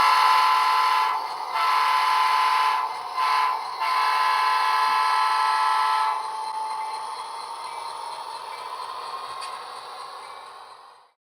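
A sustained horn blast from a DCC-EX controlled model locomotive, broken by short pauses, then fading into a long steady tone that tapers off as it departs.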